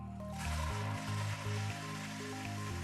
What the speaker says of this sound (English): Cover the bowl opening and test the flush valve.